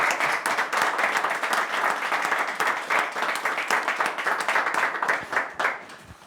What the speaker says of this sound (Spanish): Primero el aplauso.